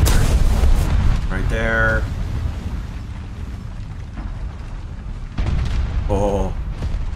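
Deep booming artillery impacts in War Thunder rumble through a loud, continuous battle backdrop, with a voice speaking briefly between the blasts.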